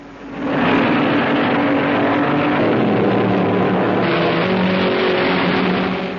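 A 1930s Grand Prix race car in the 750-kilogram formula era roars into earshot and holds a loud, harsh, droning engine note with shifting pitch, heard up close with a slightly muffled, old-recording tone.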